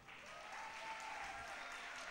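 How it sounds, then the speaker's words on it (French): Audience applause at a talk, a steady wash of clapping from a crowd that sounds fairly distant and faint. "je vous remercie de vos applaudissements"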